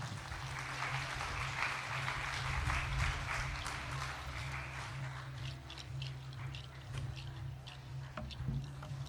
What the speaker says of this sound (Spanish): quiero que los recibamos con un fuerte aplauso